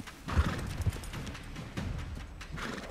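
A mare's hooves clip-clop in the video game Red Dead Redemption 2, a soft irregular run of hoofbeats at moderate distance, with a couple of heavier thuds near the start and a faint whinny-like tone in the background.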